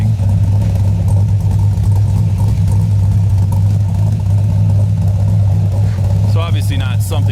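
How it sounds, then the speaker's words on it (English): Chevrolet Camaro with an LS3 V8 and a stage 1 cam idling, its exhaust a steady loud low rumble with a lumpy lope, continuing unbroken throughout. "Get a little clip of the exhaust, kind of hear that what that cam sounds like."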